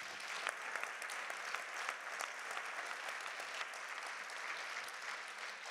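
An audience at a leadership prize event applauds steadily: a thick, even wash of many hands clapping, quiet and distant, holding at an even level throughout.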